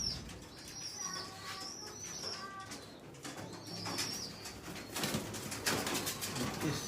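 A pigeon in a breeding loft gives a few soft, rolling coos at moderate distance over quiet background rustling.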